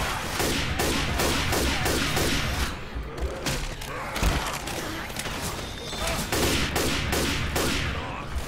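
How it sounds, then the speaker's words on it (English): Continuous gunfire from a Left 4 Dead 2 Realism Versus match on the No Mercy campaign, with dense, rapid bursts of automatic and shotgun fire and booming impacts throughout, loud and close, with some faint voices in the mix. "Can we stop shooting me?"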